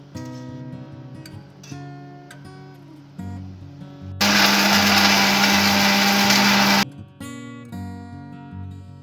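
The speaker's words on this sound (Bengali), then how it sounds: "এরপর ভাজা হয়ে গেলে মিক্সিতে পেশাই করে নেব পুরটা।" A mixer grinder whirs loudly for a few seconds, grinding fried paneer stuffing, after quieter tonal background music before and after.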